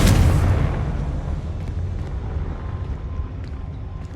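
A Confringo spell explosion in the Hogwarts Legacy video game: one heavy boom at the start that decays into a fading rumble over several seconds, near and fairly loud, with no speech.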